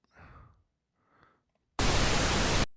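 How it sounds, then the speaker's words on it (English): A loud, steady burst of broadband pink noise lasting about a second, preceded by two faint breathy sounds. "Pink noise."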